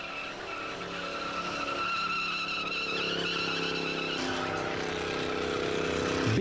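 A rear-wheel-drive car with a 4.8-litre V8 engine skids with sustained tire squeal and engine roar, loud and continuous over several seconds at a GTI meet at Wörthersee.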